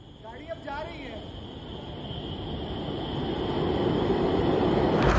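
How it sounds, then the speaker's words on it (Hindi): Kanpur Metro train pulling out of the station, a broadband rumble that swells steadily as it gathers speed, with a brief high squeal near the start and a rising hiss at the end. "गाड़ी अब जा रही है।"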